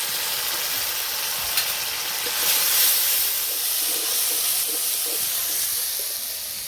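Spice paste of tomato, cumin, Kashmiri chilli and turmeric with water fries in a pan, giving a loud, steady hissing sizzle that swells slightly midway and carries on without talk.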